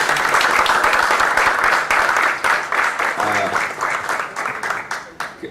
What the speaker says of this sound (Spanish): un nuevo aplauso de ustedes lo va a dejar bien claro